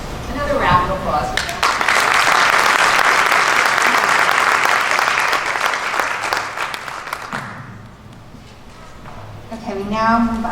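Audience at a Brewster Board of Education meeting in June 2019 breaks into a dense, steady round of applause that swells and then fades, with a voice speaking briefly before and after.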